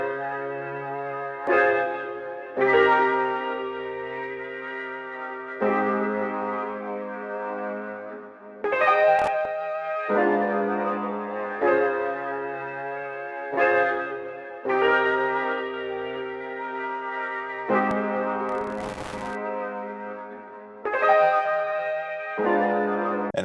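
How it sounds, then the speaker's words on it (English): Piano-like synth preset called Japan 1986 from the Spirit bank of Analog Lab 5, playing sustained chords with rich harmonics and soft echo, in several phrases that each swell and fade, alone with no voices. "I grabbed this Japan 1986 created piano"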